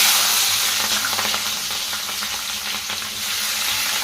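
Green chilies and onions sizzle and crackle steadily in hot oil, a dense, close frying hiss with scattered pops and stirring sounds throughout, and no talking.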